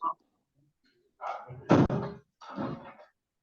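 A door is pushed shut indoors with a solid, heavy thunk, framed by a few softer knocks and shuffling thuds before and after, close by and otherwise quiet.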